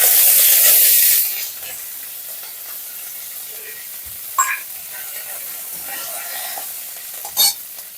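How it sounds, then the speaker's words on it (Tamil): Mustard seeds and dried red chillies crackle and sizzle in hot coconut oil as a tempering, opening with a loud burst of frying hiss that settles to a steady sizzle with a few sharp pops and spits near the end. "எண்ணெய் காஞ்ச உடனே கடுகை போடணும்."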